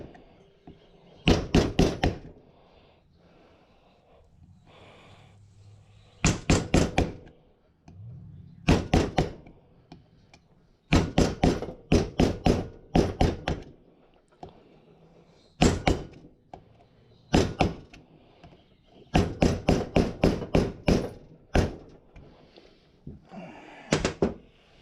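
Loud, sharp thunks and knocks hit a sturdy workbench in rapid bursts of several blows, separated by short pauses, while oil is being changed on a drag car.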